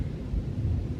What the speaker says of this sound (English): If y'all can hear it in the background, it is thundering